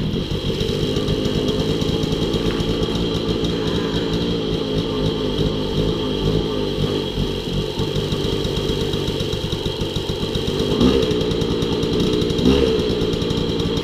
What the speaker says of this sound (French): j'ai mis un coup de starter, elle a démarré au quart de tour